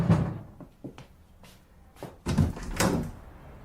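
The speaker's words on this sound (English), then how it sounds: "I went to the front door and opened it" A front door handled and swung open, with a couple of thuds and latch clatter followed by a rattling bang and a scrape, close by and without speech.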